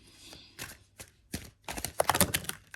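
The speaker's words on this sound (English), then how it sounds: "I feel like I should shuffle again." Tarot cards shuffled by hand, with quick papery riffles and soft slaps arriving in short bursts that grow busier toward the end, close and fairly quiet.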